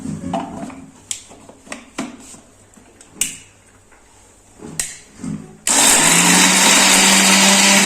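A mixer grinder grinds spices for a suran (elephant foot yam) curry: a few knocks and clatters come first, then the motor starts with a loud, steady roar that runs nearby to the end.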